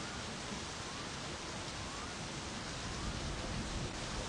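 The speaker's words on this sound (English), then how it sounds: "is the rain too loud? Or is it just enough to create ambiance?" Steady, dense rain in the video game My Summer Car, a loud, even hiss of falling water that holds without a break from start to finish.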